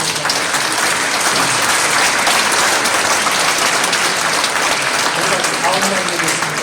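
Dense, sustained applause from a large audience at a commemorative ceremony for a former president's 149th birth anniversary, loud and even throughout, with a voice faintly underneath.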